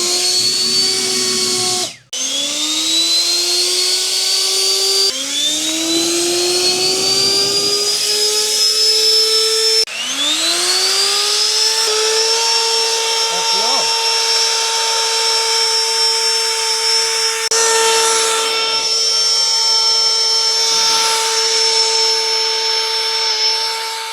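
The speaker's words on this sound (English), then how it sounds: "We're going to demonstrate blowing leaves with the drill." A DescyberCraft 21V cordless, drill-powered handheld leaf blower with a short shaft spins up again and again, each time rising to a loud steady whine. It blows leaves up close, with brief pauses between bursts.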